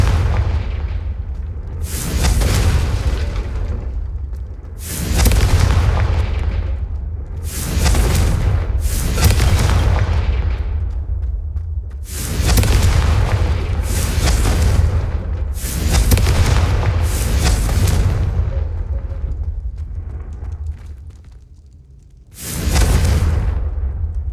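Repeated Confringo fire-spell blasts from the Hogwarts Legacy video game, about eight booming explosions with whooshing tails at irregular intervals, loud and close, with no speech.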